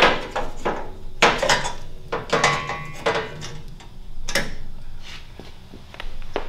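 A metal pan slides out of a Big Star Ag Source Wizard sorter to reach its air valves, making irregular close clunks, scrapes and rattles scattered across several seconds.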